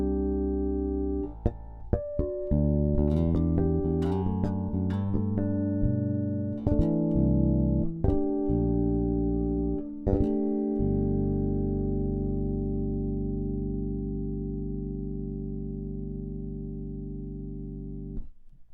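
Bass guitar harmonics ring out on Sadowsky Blue Label stainless steel strings, a run of bright plucked chiming tones over the first ten seconds, then one last harmonic sustaining and slowly decaying alone.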